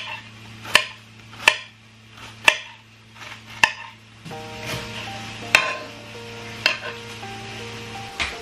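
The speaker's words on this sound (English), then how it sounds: "The first thing I'm going to do is chop this up into small pieces." Sprouts chopped into small pieces with a knife on a cutting board, about seven sharp, evenly spaced chops near at hand over a steady background hum, with no talking.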